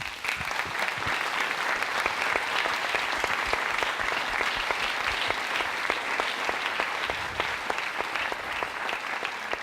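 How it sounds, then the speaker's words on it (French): Sustained applause from an audience at a public talk in Sceaux, steady and dense for the whole stretch, with no voices rising above it. "Je pense qu'on peut les applaudir quand même"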